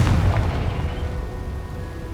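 A Confringo spell blast in the video game Hogwarts Legacy, heard as a heavy booming burst that opens loud and rolls off into a sustained low rumble over about two seconds.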